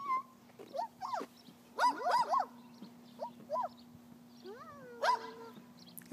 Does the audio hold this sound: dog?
yes